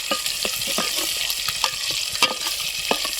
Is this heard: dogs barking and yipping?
no